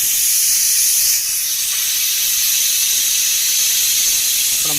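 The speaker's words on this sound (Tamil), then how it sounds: "இப்போ இது கடைசியாக ஒரு விசில் மட்டும்." A pressure cooker vents steam through its whistle in a kitchen, a loud, continuous hiss that holds steady for several seconds and dips slightly partway through.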